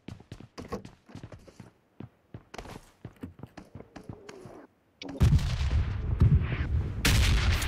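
In the mobile battle game BGMI, a volley of sharp gunshots cracks out in quick irregular bursts, then gives way to a dense, loud roar of heavier fire and explosions near the end.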